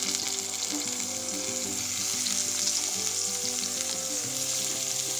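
Steady, close sizzling of potatoes and eggplant frying in hot oil, crackling continuously with occasional stirring and faint background tones.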